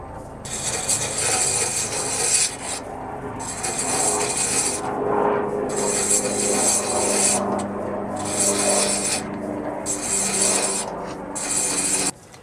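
Thread being cut in wood on a pedal-powered lathe, a steady rasping rub repeating in regular strokes of about a second each with short gaps between them, close and moderately loud.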